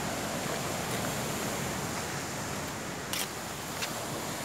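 Ocean surf rolling in along the shore at Mombasa, a steady loud wash of breaking waves with wind noise, no voices.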